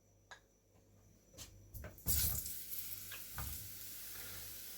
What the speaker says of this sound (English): put the mushrooms in and fry them off